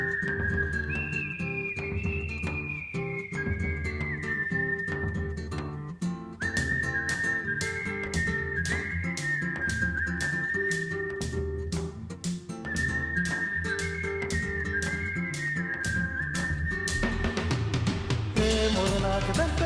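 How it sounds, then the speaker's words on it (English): Melodic whistling carries the tune of a song, gliding in clear sustained phrases over guitar, bass and rhythmic percussion, steady and prominent throughout. "The whistling too."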